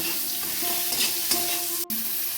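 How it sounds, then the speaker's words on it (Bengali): Spice paste for a masoor dal with prawns sizzles and fries in a pan while a spoon stirs it steadily, giving a close, continuous crackle with soft scraping strokes and a brief clack near the end. "এবার মশলাটা খুব ভালো করে কষিয়ে নেব।"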